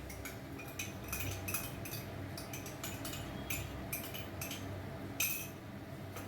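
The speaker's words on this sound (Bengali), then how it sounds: "এবার দইটাকে আমি ফেটিয়ে দেবো" Yogurt whisked in a bowl with a metal utensil, making a rapid run of light clinks and taps against the bowl over a low background hum, with no talking.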